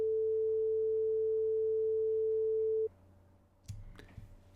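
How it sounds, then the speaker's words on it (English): Pure sine wave tone generated with NumPy in Python, a single steady unwavering pitch held for nearly three seconds, then cut off abruptly, followed by faint clicks and handling noise. "we're going to make our first sine wave with NumPy"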